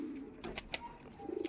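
Domestic pigeons, Rampuri males among them, cooing indoors in a loft: a few soft, low coos rise over quiet background hiss, with faint chirpy accents near the end.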